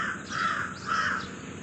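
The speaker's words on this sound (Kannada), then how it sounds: "ಇವತ್ತು ಕಾಗೆ ಕೂಗೋದು ಕೇಳಿಸ್ತಾ ಇದೆ" Two harsh crow caws sound close together, rasping and fairly loud against a steady outdoor hiss.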